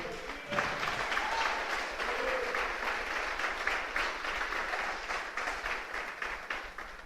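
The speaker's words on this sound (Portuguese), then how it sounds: "Você pode aplaudir o Senhor?" Church congregation applauding at a Portuguese-language sermon, a dense, steady wash of many hands clapping that fills the space at moderate level throughout, with no speech over it.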